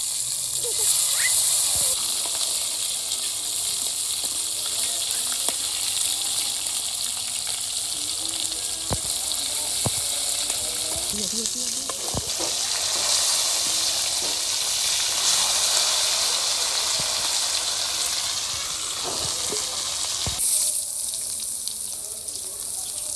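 Onion and tomato frying in hot oil for a chicken and vegetable curry, giving a steady, dense sizzle throughout with occasional sharp pops and crackles, close and fairly loud, with no talking.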